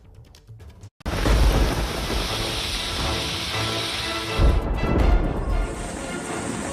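Heavy monsoon rain pours down in flood-hit Kerala, a loud, dense, continuous roar that starts abruptly after a short quieter moment, with low rumbling thunder swelling beneath it and no voices.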